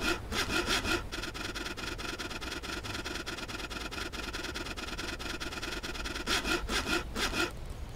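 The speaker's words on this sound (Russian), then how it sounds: "Берем в руки пилу и погнали" A hand saw cuts through wood in the video game Blight, a steady rapid rasp of back-and-forth strokes, close and continuous, with harsher bursts at the start and end.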